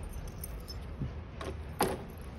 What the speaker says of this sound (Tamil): ஜஸ்ட் நம்ம சாவி நம்ம வெளியே எடுத்துக்கலாம் ஹேண்ட்லாக்கு.